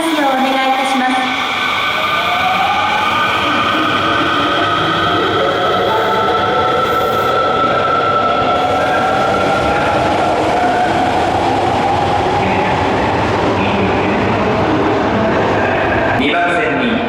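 An Osaka Metro Sakaisuji Line train pulls into Ebisucho station, its long rumble and rising wheel and motor whine filling the platform while station announcements play over it.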